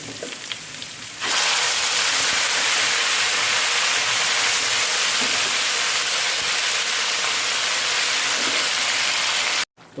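Beef and pumpkin frying in masala for kaddu gosht, a steady loud sizzle that bursts in after a quieter first second and hisses on continuously to the end, with no talk.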